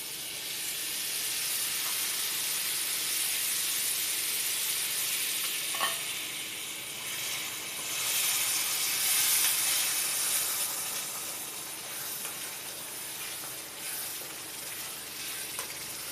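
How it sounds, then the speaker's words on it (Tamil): Tamarind extract hits hot oil and garlic in a pot of kuzhambu, raising a loud, steady sizzle and hiss that swells and eases over several seconds, with no talking. "நம்ம புளி கரைசல் ஊற்றிடலாம்."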